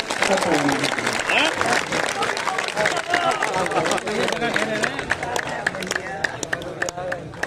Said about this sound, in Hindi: दोनों हाथ उठा करके तालियां बजाएं